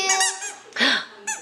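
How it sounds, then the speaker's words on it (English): Child's squeaky shoes give sharp, high-pitched squeaks, several close together then another after a pause, loud and close with no talking. "Did you get squeaky shoes?"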